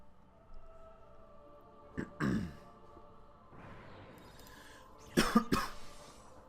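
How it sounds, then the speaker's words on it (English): A single short cough, a throat-clearing burst a few seconds later, and a quiet breath between, all close to the mic in a quiet room. "sorry about a little cough if you heard that"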